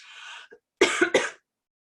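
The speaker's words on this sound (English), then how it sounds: "so pardon my coughing." A person coughs close up: a hoarse clearing at first, then two sharp, harsh coughs in quick succession.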